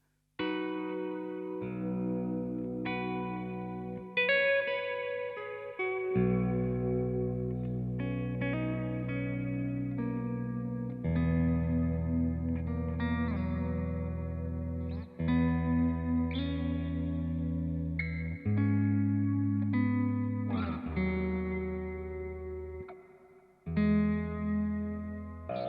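Baritone or seven-string electric guitar played in open position through effects, sustained low chords and ringing notes with a shimmering chorus-like wash and light grit, changing every few seconds, loud and continuous for the whole stretch.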